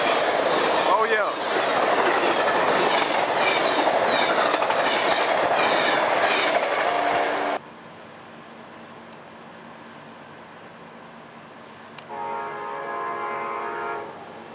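Amtrak 20 passenger train hauled by a P42 locomotive roars past at Pell City, Alabama, loud rumbling and clattering for several seconds, then dropping to a distant hum before a horn blast sounds near the end.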